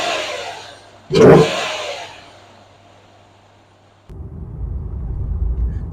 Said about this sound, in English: This is how the engine sounds after we install the K&N air filter kit.